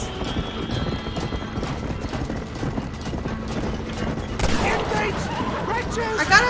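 Horses galloping in Red Dead Redemption, a rapid continuous clatter of hooves close by, with a burst of gunfire and commotion near the end.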